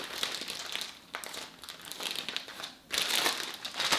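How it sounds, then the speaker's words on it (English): A plastic zipper freezer bag holding a crock pot freezer meal is folded and pressed to push the air out, then zipped shut, giving close, continuous crinkling and rustling of plastic with a short pause before a final burst of crinkling. "So tap it down, kind of fold it to get some of the air out, and then zip it shut."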